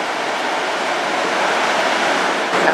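Victoria Falls in southern Africa at low water, heard as a steady, loud broadband roar of falling water that holds unchanged throughout.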